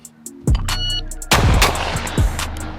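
A Tristar Setter 12-gauge over-under shotgun fires several loud, close blasts in quick succession, each a sharp crack with a booming tail, no talking.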